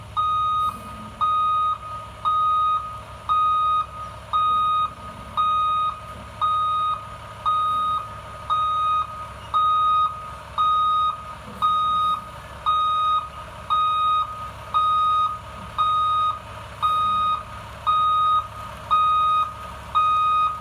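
A Class B school bus backs up during parallel-parking practice, and its reversing alarm sounds loud, steady beeps about one per second for the whole stretch. A low idling engine hums underneath, and there is no talking.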